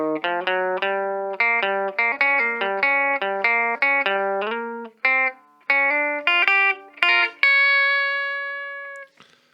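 Electric guitar playing a rockabilly Christmas riff in bright, clean, twangy picked phrases of single notes and double stops. The rhythmic runs are punctuated by short pauses and end on a sustained ringing chord that fades out.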